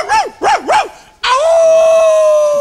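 A human voice imitates a dog, giving three quick wavering yelps followed by a long, steady howl-like cry, loud and close, with no other sounds around it.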